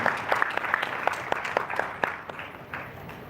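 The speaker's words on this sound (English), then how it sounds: "Let's put our hands together and give him a round of applause as he makes his way to the stage." An audience at a travel awards gala applauds as a guest walks to the stage, a steady wash of many hands clapping at moderate distance that thins out toward the end.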